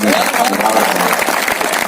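An audience at a mushaira poetry gathering claps together, a dense, loud burst of applause filling the short stretch, with voices calling out beneath it.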